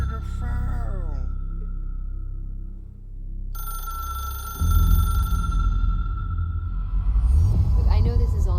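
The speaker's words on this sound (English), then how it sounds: "Would somebody answer the damn phone?" A telephone rings in the game Control, a repeated electronic trilling ring over a low hum, then heavier dense noise takes over midway as another tone joins, with no voices.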